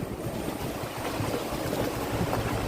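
Water rushing from the open front shutters of Peruvannamuzhi dam after rain: a loud, steady broadband roar of churning, surging water, heard alone.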